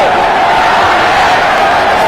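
A rugby stadium crowd at a Wales versus Australia match roars loudly and steadily, a dense, continuous wall of cheering with no break.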